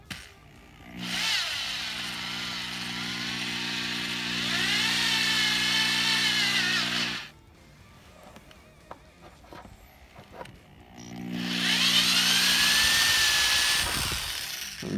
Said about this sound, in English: Just slowly drill into it.